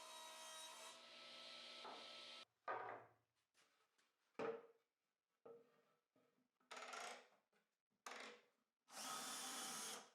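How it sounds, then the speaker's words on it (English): Pre-drilling and countersinking screw holes in a soft maple tabletop: several bursts of a power drill biting into wood, broken by pauses and short scrapes, close and clear. "I pre-drilled and countersunk my screws"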